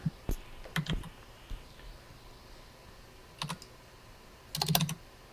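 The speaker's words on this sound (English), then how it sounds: "I can hear lots of typing in the background" Someone types on a computer keyboard in the background during an online lecture, with quiet scattered clusters of key clicks and no speech.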